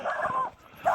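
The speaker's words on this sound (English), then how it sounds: "Dogs are barking." A dog barks twice, close and fairly loud, a sharp yelp at the start and another near the end, against an otherwise quiet outdoor backdrop.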